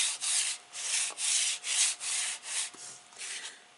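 Paper is rubbed firmly along the edge of a mini recipe album page in repeated strokes, about eight rhythmic close scraping swipes with brief pauses between them and no talk.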